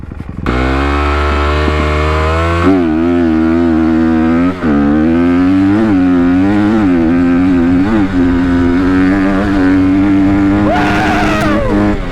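Motorcycle accelerating hard up through the gears to fifth, a loud close engine note climbing in pitch repeatedly with brief dips at each shift, ending in a high rev.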